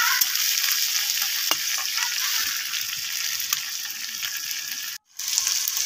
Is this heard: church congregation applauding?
no